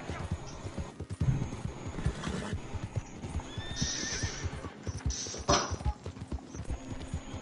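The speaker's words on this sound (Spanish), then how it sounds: "Vamos a darle comida al caballo" A nearby horse whinnies in a loud, wavering neigh while hooves clip-clop in an uneven rhythm, with people talking around it at close range.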